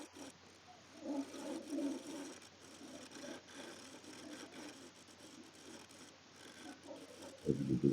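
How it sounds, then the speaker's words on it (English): Final scraping cuts on a segmented wooden bowl produce faint, soft rasping passes, strongest early on, with a brief louder thump right at the end. "I'm doing some final scraping cuts on these"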